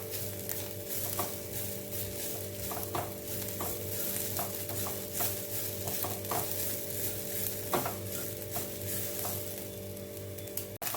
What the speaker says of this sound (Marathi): त्याच्यामध्येच मी लसूणच्या पाकळ्या घालणार आहे.